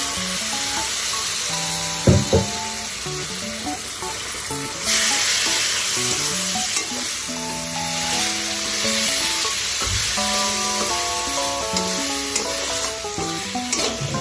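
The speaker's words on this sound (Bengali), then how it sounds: "সুন্দর করে ভেজে নেব। তো মশলাটা কষানো হয়ে গেছে" Cumin and dried chili powder frying with a splash of water in a pan for a lote fish curry, a sustained loud sizzle with repeated spoon scrapes and occasional sharp clatters.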